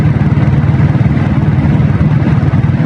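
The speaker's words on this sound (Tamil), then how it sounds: "வண்டி பீட் அட்டகாசமாக இருக்குது" A 7.5 HP diesel Royal Enfield Bullet motorcycle with self-start runs loud and close, its engine thumping in a steady, even low-pitched beat.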